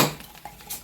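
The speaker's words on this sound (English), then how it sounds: "We are now washing dishes." Cutlery and dishes clink against each other during kitchen dishwashing, a short burst of close metallic rattling with no voices.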